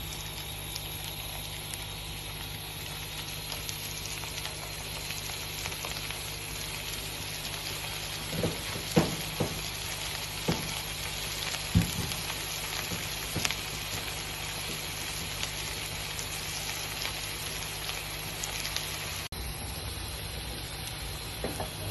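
Potato pillow bites frying in ghee, a soft steady crackle like light rain that runs throughout, with a few scattered pops and taps, no speech.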